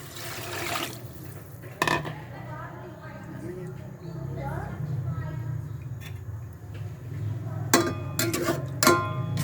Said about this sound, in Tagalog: lagdagan na natin ng tubig